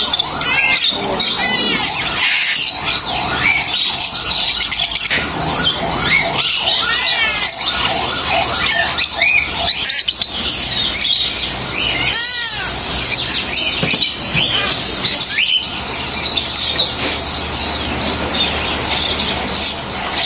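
Dense, continuous chorus of many caged birds squawking, chirping and trilling at Yuen Po Street Bird Garden in Hong Kong, loud and close throughout with overlapping calls and no talk.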